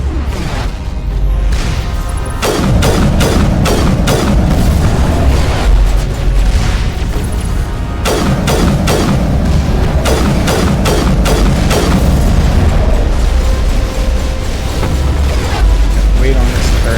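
Mass Effect turret firing in a game battle: a rapid string of loud, heavy booming shots that pauses briefly, then resumes in another sustained volley.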